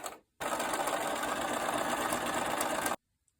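A sewing machine stitches the seam of a quilt square for a disappearing nine-patch baby quilt, running in one steady, continuous burst of close, even whirring for a few seconds before stopping abruptly.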